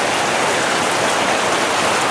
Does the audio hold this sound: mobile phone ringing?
no